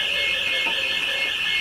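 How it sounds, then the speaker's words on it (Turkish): A smoke alarm blares in a home kitchen during risotto cooking, a loud, continuous high-pitched electronic tone that holds steady without pause. "Duman alarmı atıyor."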